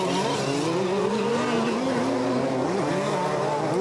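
A radio-controlled 2WD off-road race car laps the track during the final of a European championship race, its high-pitched motor whine steady and loud throughout, rising and falling in pitch as it works through the course.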